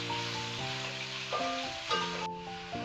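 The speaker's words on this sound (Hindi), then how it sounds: "अब गोश्त को हम इतना भुनेंगे, फ्राई करेंगे कि इसका कलर चेंज हो जाए।" Meat (gosht) frying in a pan for a beetroot and spinach curry gives a steady, close sizzle that runs unbroken under a melodic background music track.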